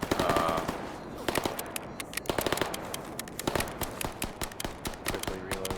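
Firearms in the shooter game Stalker Gamma fire in dense, rapid volleys, a loud, continuous run of sharp shots and bursts with barely a pause between them.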